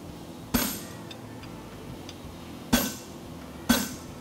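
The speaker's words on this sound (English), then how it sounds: "I'm just gonna come in here and soften these corners a little bit with my hammer." A blacksmith's hammer shapes a fullered draft horseshoe. Three separate sharp metallic strikes land with irregular gaps, each ringing briefly, and the overall sound is fairly quiet with no voices.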